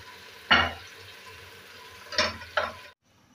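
Fried aubergine and potato stirred into masala in a pan, heard as three scraping clatters of a spoon against the pan over a low frying hiss, close, with no talk, ending abruptly.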